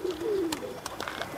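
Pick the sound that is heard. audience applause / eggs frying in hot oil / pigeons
pigeons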